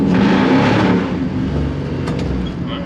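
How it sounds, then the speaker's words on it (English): A NASCAR-style 1957 Chevy engine revs loudly up close, bouncing against a low-set rev limiter in a sustained rough roar that eases slightly toward the end. "I got the rev limiter set a little low there"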